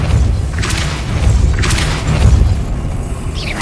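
A Depulso spell cast in the video game Hogwarts Legacy lands as deep booming thumps over a constant low rumble, with two bright whooshing bursts in quick succession.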